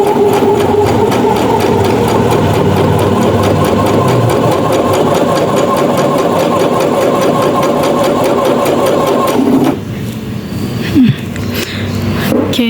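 A Yamata Feiyue Scoopy 7110 Max II portable sewing machine stitches at fast speed with a steady, rapid mechanical whir for about ten seconds, then stops, leaving faint handling noises.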